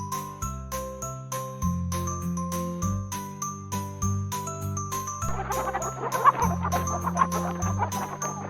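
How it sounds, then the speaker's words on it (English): A chicken clucks over a bright, bouncy children's tune with tinkling bells, the clucks coming in repeated short bursts amid the steady music. "Chicken."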